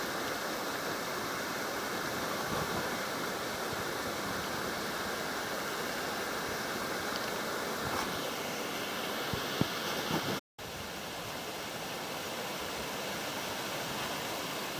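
Two small waterfall spouts pour into a creek in Macquarie Pass National Park on the Illawarra Escarpment, giving a steady, dense rushing wash that holds evenly throughout with no voices.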